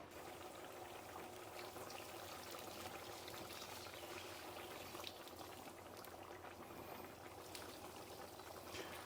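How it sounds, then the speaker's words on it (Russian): Boiling water is poured onto rice for plov, a faint, even hiss of pouring and bubbling that lasts throughout without talk. "Как видно, заливаю кипяток. Добавил кипяток. Именно кипяток."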